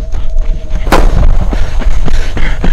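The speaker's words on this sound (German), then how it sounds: "In der Ferne wird plötzlich ein Schuss abgefeuert." A single sharp gunshot cracks out in the distance, loud and booming, followed by a few fainter pops and echoes against a rumbling outdoor background.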